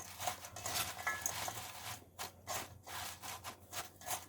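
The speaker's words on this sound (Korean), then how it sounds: "소금이 골고루 잘 분산되도록 여러 번 이래 섞어서 버무리 주셔야 되고요" Cut radish being tossed and mixed with coarse salt in a bowl, a soft rhythmic rubbing and scraping repeated several times, faint and close with no voices.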